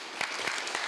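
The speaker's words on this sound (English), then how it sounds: "Judging from the applause" Conference audience at an energy market event applauding, a brief continuous patter of many hands clapping, moderately distant.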